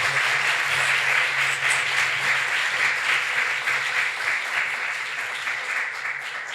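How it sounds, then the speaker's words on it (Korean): Sustained applause from a church congregation at a pastor's installation ceremony in Detmold, steady dense clapping that fades slightly toward the end, with a low hum or faint music underneath. "우리 박수로 한번 해주시고요."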